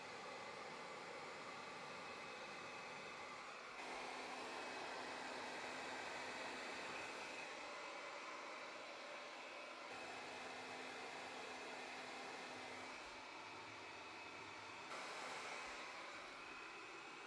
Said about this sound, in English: So yeah, let's dry my hair.